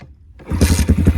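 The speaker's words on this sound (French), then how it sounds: "Bon, allez, je vais vous la démarrer." An Rfz 150cc dirt bike with high compression is kick-started while warm. After a short scrape the engine catches at once and runs loud and close with a rough, steady throb.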